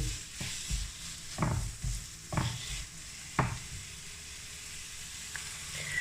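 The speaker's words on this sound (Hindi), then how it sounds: "अब प्याज के अंदर ही आलू को भी फ्राई करेंगे।" Onion and potato fry in a pan over low heat, with a soft continuous sizzle broken by several scraping stirs of a spoon, fairly quiet and close.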